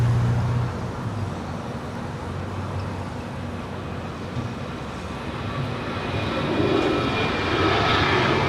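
A United Airlines airplane at Los Angeles LAX airport, a broad, steady jet roar with distant traffic noise beneath it, swelling louder toward the end.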